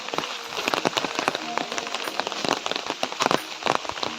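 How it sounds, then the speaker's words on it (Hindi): A heavy monsoon downpour drums loudly and steadily nearby, with sharp splashing drops crackling throughout. "अब भयंकर वाली बारिश लगी भाई देखिए, तो भीगते भी जाते रहेंगे"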